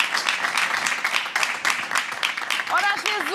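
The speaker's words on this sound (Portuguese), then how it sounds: "eu peço-vos um aplauso para o enfermeiro Márcio" An audience claps steadily for nurse Márcio at a talk on sexuality in old age; the applause stays dense throughout, with a few high whistle-like tones near the end.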